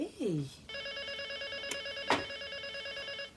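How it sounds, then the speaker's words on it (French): A telephone bell rings steadily in an indoor setting, loud and continuous after a brief voice at the start, with a couple of sharp knocks over it. "Karine, réponds au téléphone, s'il te plaît"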